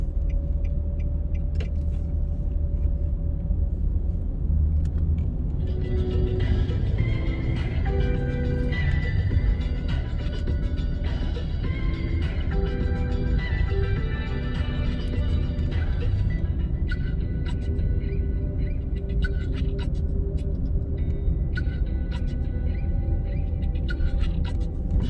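Car driving up a residential avenue, a steady low road rumble and engine hum filling the whole stretch, with faint higher mechanical tones and light clicks drifting over it in the middle.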